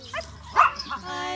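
Minimaltese puppies barking in a short burst of high yips and whimpers, close and fairly loud, with a person talking around them.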